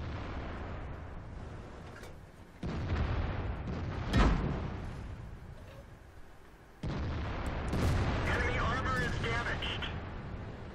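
In World of Tanks, an IS-3 tank's cannon fires one sharp, heavy boom midway through, set against a continuous rumbling engine and battle ambience, with voices faintly audible.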